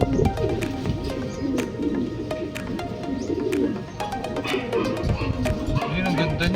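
Racing pigeons coo in a loft, close and loud, with repeated low throaty coos overlapping through the stretch and sharp clicks and flutters scattered between them.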